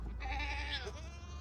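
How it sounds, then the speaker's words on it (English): Goat on a farm giving one long wavering bleat, close and fairly loud over a low steady background hum, lasting about a second. "Well, I have the goats separate on that side"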